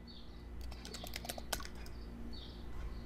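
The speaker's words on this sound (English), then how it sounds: "Go to insert text box and just type your text here." Fingers type on a computer keyboard while text is entered into a PowerPoint text box, a quick burst of light clicking keystrokes, close but soft, over a faint steady room hum.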